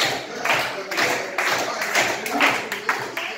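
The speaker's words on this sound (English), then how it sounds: "Clap, come on, clap" Rhythmic clapping and tapping from a group at dance practice in a grange hall, a steady beat of bursts roughly every half second, close and fairly loud throughout.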